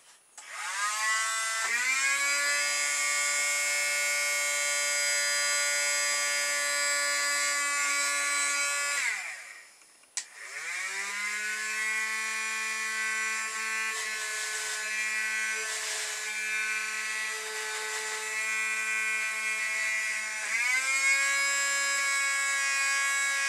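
A small 5 volt motor powered by AAA batteries runs with a steady, high buzzing whine, cutting out briefly midway, then restarting and running continuously at close range.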